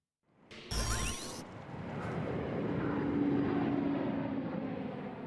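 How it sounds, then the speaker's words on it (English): An Antonov 124 cargo plane lands in South Africa with a loud, sustained jet roar that swells after a sharp onset and holds steady throughout, a broad rushing engine noise close by. "The Antonov 124 cargo plane finally touches down on South African soil"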